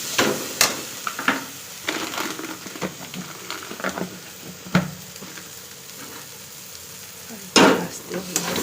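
Fish curry with Kashmiri chili simmering in a pan, a soft steady sizzle under scattered clinks and scrapes of stirring, with a few sharper knocks of utensil against the pan.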